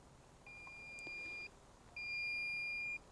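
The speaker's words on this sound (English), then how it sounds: "LaserLink will beep twice to tell you it's now paired." A LaserLink receiver for a clay pigeon target shooting setup gives two steady electronic beeps, one after the other, each lasting about a second, with a short gap between them. The tones are clear and even, and nothing else is heard around them.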